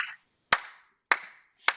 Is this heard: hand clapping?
yes